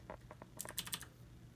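Clicky typing on a mechanical gaming keyboard with blue switches, a quick run of sharp, close keystrokes in an uneven rhythm with no voices.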